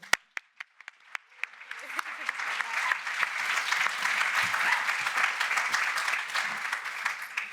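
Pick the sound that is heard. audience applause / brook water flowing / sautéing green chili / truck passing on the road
audience applause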